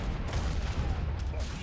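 Heavy cannons fire in an Age of Empires III: Definitive Edition battle, a dense run of booming blasts mixed with other gunfire at steady loudness.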